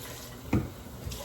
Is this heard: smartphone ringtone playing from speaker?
no